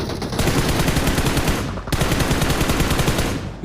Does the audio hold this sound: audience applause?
no